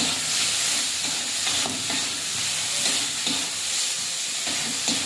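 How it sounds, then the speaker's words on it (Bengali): Spices with chili and turmeric powder frying in a pan for a pumpkin and potato dish, a dense steady sizzle with stirring scrapes and clatters throughout, close and fairly loud, no voices. "লঙ্কার গুঁড়ো, হলুদ গুঁড়ো দিয়ে ভালো করে একটু মশলাটা কষিয়ে নেব।"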